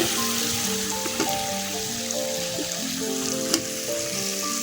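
Meat dropped into hot oil with spices for a Bengali village meat pulao, giving a dense, continuous sizzle and crackle at close range, with faint tonal sounds in the background and a few sharper pops.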